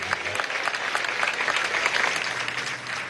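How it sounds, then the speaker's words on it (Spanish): An audience at a Venezuelan government housing handover ceremony with President Maduro applauds steadily for about three seconds, a dense, sustained clapping from a large crowd with no talk over it. "Vamos a darle un aplauso a ese trujillano"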